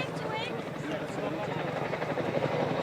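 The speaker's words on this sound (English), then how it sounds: "This is an opportunity for us to demonstrate the unique ability of a helicopter to fly sideways" A Chinook helicopter flies sideways past the crowd line at the Waddington air show, its steady rotor chop and engine drone filling the air under a commentator's voice over the loudspeakers.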